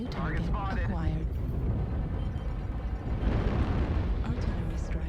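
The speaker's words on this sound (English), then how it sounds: "Artillery strike activated." Artillery strike explosions rumble in the mech combat game MechWarrior Online, a run of deep booming bursts under a voice that talks over much of it.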